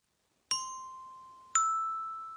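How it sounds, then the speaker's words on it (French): A twelve-bar metal chime rings two struck tones about a second apart, each sharp attack fading into a long bright sustain in a quiet room. "tu peux le jouer si tu as un mini métallo comme je t'ai présenté tout à l'heure, ou ce carillon à 12 lames"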